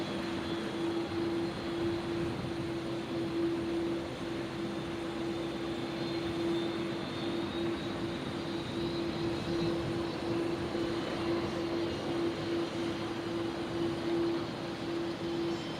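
An airliner takes off from Brisbane Airport, bound for Melbourne, its engines a steady, distant roar with a constant droning tone that holds evenly for the whole stretch, with no voices.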